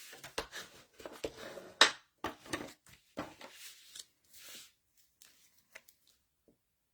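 A bone folder scoring a card base, giving short scraping strokes and soft papery rubs in quick, irregular bursts close by that thin out into sparse faint taps and quiet.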